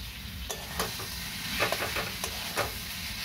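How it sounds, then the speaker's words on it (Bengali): Potatoes sizzle steadily in a pan of frying spices while a spoon scrapes and stirs through them in several quick, uneven strokes, close by. "এবার আলুর সাথে মশলাগুলো খুব ভালো করে মিশিয়ে কষে নেব।"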